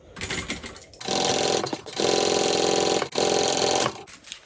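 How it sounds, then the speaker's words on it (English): A sewing machine stitches handbag exterior slip pocket pieces together, running loud and steady in two long bursts broken by a brief pause, with quieter stitching before and after. "we're going to sew up our exterior slip pocket pieces together"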